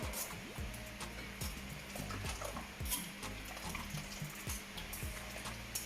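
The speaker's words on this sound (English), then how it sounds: "I'm going to tip a little bit of water, another cup or so, and you're going to kind of mix it out" Water poured from a cup into a Jamaican natural juice blend, a steady close trickle and splash running continuously, with faint clinks and knocks over it.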